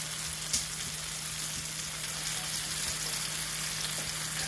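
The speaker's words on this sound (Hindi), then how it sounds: "अब पोटैटो सॉफ्ट हो गए और मसाला भी तैयार हो गया, अब हम एग्स ऊपर डालेंगे।" Eggs poured over potatoes and spices frying in a pan, giving a steady close sizzle with a few soft taps and stirring sounds.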